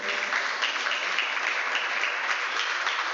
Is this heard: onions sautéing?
no